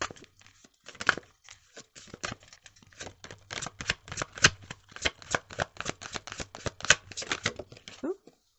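A deck of tarot cards is shuffled close up in a quiet room, with a rapid series of crisp riffling bursts and soft slaps, irregular in rhythm, trailing off at the end.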